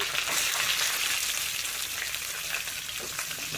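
Onions and curry leaves frying in hot oil for idli upma give a steady, dense sizzle that crackles continuously at close range, with no voices.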